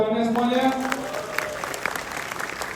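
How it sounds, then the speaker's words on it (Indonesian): An audience at a large Indonesian YouTube creator gathering breaks into applause, a dense close crackle of many hands following a brief tonal sound at the start, then steadily thinning. "Boleh tepuk tangannya semuanya?"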